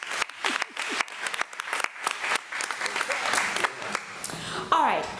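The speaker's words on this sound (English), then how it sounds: "let's give our above and beyond one more round of applause" A round of applause at a committee-of-the-whole meeting, scattered, fairly close claps from a modest crowd at moderate loudness, with a voice briefly heard near the end.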